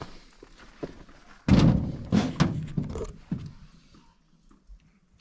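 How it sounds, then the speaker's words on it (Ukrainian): Someone stepping onto a homemade animal weighing scale: one heavy, close thunk on the platform, followed by a few lighter thuds and creaks as the weight settles, then quiet. "Зараз я стою на ваги."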